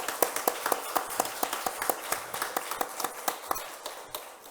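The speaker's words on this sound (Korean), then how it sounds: "예, 박수로 환영하겠습니다." A church congregation claps to welcome visiting missionaries, giving a steady run of many hand claps at a moderate pace that thins toward the end, with no voices over it.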